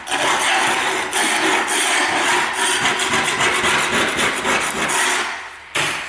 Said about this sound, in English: Also scrape the base.